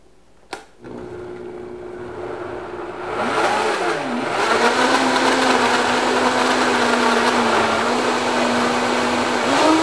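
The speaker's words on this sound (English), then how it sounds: "So we will put the blender on the base, put the lid on, and begin to blend." A blender whirs through a raw vegan chilled cucumber and mint soup, starting with a click and low hum, then ramping up to a loud, steady motor drone that holds to the end with no talking.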